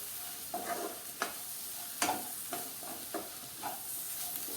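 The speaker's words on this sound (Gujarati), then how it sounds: "શાકને સારી રીતે મિક્સ કરી લઈએ" A bell pepper curry sizzles softly in a pan while a spoon stirs and scrapes it in a series of separate strokes, close but quiet, with no talk.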